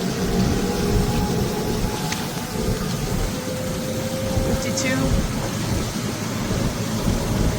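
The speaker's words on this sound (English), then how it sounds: "It's raining a little bit." Light rain falls while an EvoBike electric vehicle drives toward Puerto Morelos beach, a steady hiss of drizzle and road noise under nearly continuous conversation.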